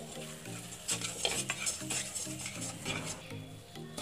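Flour seasoned with black pepper and salt stirred in a pan for white pasta, a quiet sizzle beneath rhythmic scraping strokes of a spoon against the pan, close and without talking.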